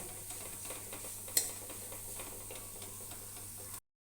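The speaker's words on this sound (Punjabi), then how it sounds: "ਦਾਲ ਨੂੰ ਆਪਾਂ ਲੋ ਫਲੇਮ ਤੇ ਹੀ ਭੁੰਨਣਾ ਹੈ" Moong dal roasting in a pan over a low flame, giving a faint, steady dry sizzle with a single small clink partway through, then cutting off to silence near the end.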